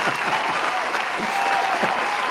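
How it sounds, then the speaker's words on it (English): Audience applause at a live Elvis request show, a steady, dense burst of clapping filling the whole moment with no voices on top. "We've got a massive applause for you as well."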